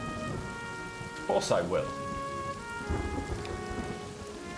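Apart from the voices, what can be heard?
rain in a video game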